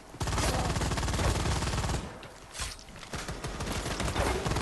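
A secondary weapon fires in the video game Firefall, a loud rapid automatic burst with a brief pause, then more fire mixed with mechanical clicks.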